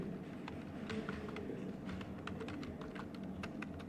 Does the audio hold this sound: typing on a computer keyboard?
yes